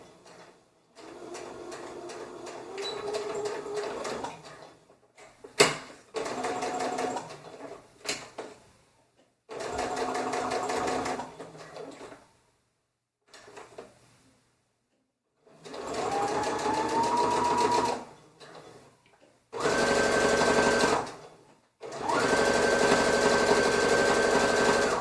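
A sewing machine runs a small hem down the side of a shirt from the armhole, in several steady whirring bursts that speed up and slow down, separated by short pauses and quiet handling.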